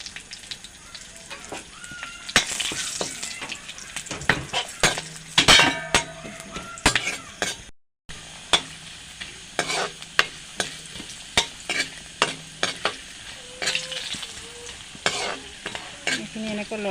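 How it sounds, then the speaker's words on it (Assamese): Dry red chilies and bay leaves fry in hot oil in a pan while being stirred, giving a steady sizzle broken by frequent clinks and scrapes of the spoon against the pan, close and with no talking. "এইখিনি এনেকৈ লৰাই দিছোঁ, অলপ ভাজি লৈছোঁ।"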